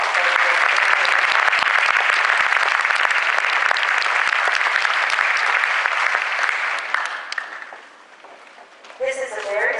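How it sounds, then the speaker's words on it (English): Audience at a National Junior Honor Society ceremony gives sustained applause, dense and close, which fades out near the end before a voice begins speaking. "Let's give them a round of applause."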